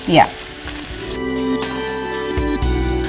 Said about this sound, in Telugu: సో ఈ పసుపు కారం అనేది కొంచెం లైట్ గా ఫ్రై చేసుకోవాలన్నమాట